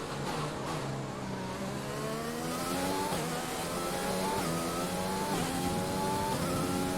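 F1 2020 race car engine revving hard and climbing steadily in pitch, a loud continuous whine that pulls through the gears with no pause.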